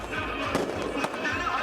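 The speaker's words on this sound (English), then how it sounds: "Fireworks filled the West Bank sky at dawn on Sunday as Kader Adnan, an Islamic Jihad leader, was" Fireworks bursting in the sky over the West Bank at dawn, a few sharp cracks and pops over a continuous crowd-like wash, with voices murmuring throughout.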